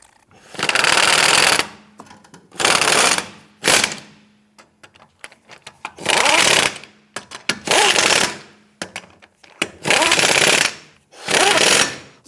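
An impact tool snugs down lug nuts on a 2008-2013 Nissan Rogue wheel in about seven loud rattling bursts of one to two seconds each, close up, separated by short pauses with faint clicks and handling noise.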